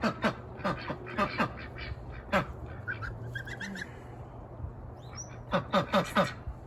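A duck being bandaged to treat angel wing quacks in short scattered bursts, with a quick cluster of loud, close quacks near the end over low background noise.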